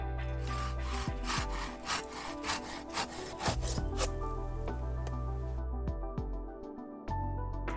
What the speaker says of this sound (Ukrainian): Як ріжеться пилка, ви можете зараз спостерігати на відео.